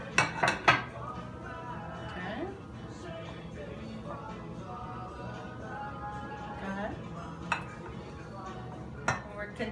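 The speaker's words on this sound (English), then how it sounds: "Continuing to whisk away and add the milk." A whisk beats Dutch pancake batter in a bowl as milk is added, making soft repeated clinks and scrapes against the bowl, with a few sharper knocks and a voice talking over it.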